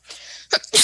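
A single close, loud human sneeze: a soft breathy intake followed by a sharp, explosive burst.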